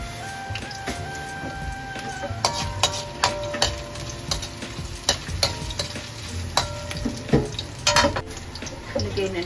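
Garlic and ginger fry in a pan, a steady sizzle broken by repeated clinks and scrapes of a utensil stirring against the metal, close and moderately loud throughout.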